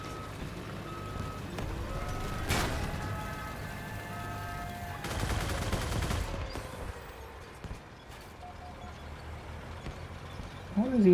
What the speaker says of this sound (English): Helgen, could you shoot someone else?